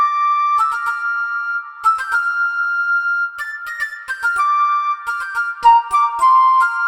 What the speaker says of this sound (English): I just added this flute to the chorus.